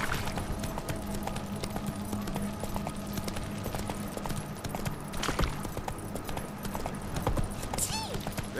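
Rhythmic clip-clop of Roach, the horse in The Witcher 3: Hearts of Stone, galloping steadily throughout, with occasional bursts of game sound effects over a continuous ambient bed.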